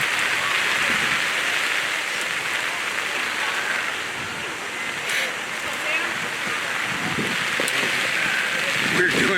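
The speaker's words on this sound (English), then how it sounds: "I can't see anything. This is all covered with rain." Heavy rain falls steadily during an outdoor boys' high school soccer game, a constant close hiss of drops on surfaces with faint crowd noise and occasional voices underneath.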